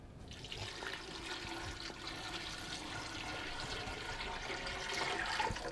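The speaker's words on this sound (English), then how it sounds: "I'm going to also add about 6 cups of water." A steady rush of water runs from a tap into a pan to make about six cups for an old-fashioned strawberry-mint drink, continuous and fairly close, growing a little fuller toward the end.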